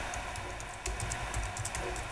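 Quick irregular clicks of typing on a tiny computer keyboard, soft and close against a steady background hiss.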